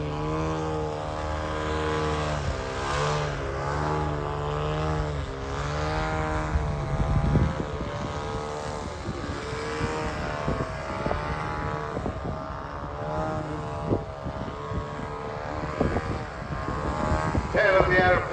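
The engine of a Skip Model Designs 52% Ultimate, a large scale model aerobatic plane, drones steadily over a model flying field with pitch shifts as it manoeuvres. Someone talks over it throughout.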